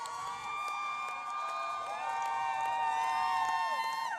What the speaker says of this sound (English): The UNH fans applauding their team in the end.